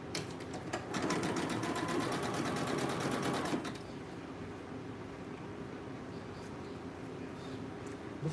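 A sewing machine runs a zigzag stitch in one quick burst of a few seconds, its needle rattling fast and close before it stops into a quiet room.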